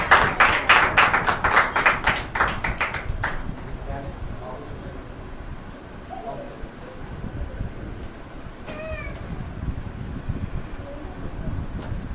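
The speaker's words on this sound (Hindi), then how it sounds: "तो आइए अंकल का हम स्वागत करेंगे जोरदार तालियों के साथ।" A church congregation at a Thursday healing service claps loudly and in rhythm to welcome a speaker, a burst of strong unison claps for about three seconds before fading into quieter room sounds and scattered voices.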